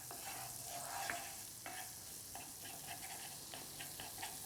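Steak sizzling in a pan of butter with garlic and peppercorns over medium heat, with a steady, dense hiss and scattered pops and scrapes as the garlic is stirred and spread around.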